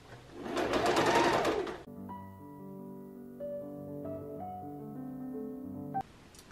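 A sewing machine runs a straight stitch at a 2.5 setting while a pacifier clip is made. A loud burst of fast, rattling stitching stops abruptly and is followed by a quiet tonal hum.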